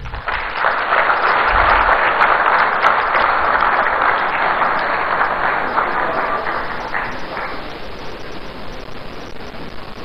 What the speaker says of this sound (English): with a round of applause, shall we welcome up here Honorable Sam George.